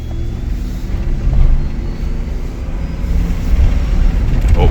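A 2018 Dodge Charger engine running on a drive after a rebuild, a loud, steady low rumble close by with no talking.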